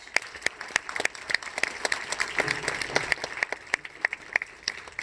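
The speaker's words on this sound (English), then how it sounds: "Let's give another round of applause to our graduates." A modest audience claps for graduates at a 2020 ceremony, sparse individual claps standing out sharply over a thin, steady patter, sounding somewhat distant and slightly choppy.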